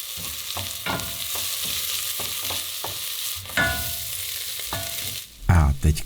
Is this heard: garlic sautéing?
yes